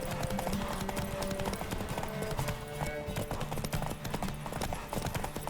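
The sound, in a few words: horse galloping in video game The Witcher 3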